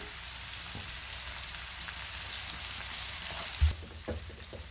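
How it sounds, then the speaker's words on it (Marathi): Tomatoes with a little salt sauté in a pan until soft, giving a constant, fairly quiet hiss of sizzling with a couple of soft knocks near the end and no talking. "टोमॅटोसुद्धा आपल्याला छान मऊ होईपर्यंत परतून घ्यायचं आहे"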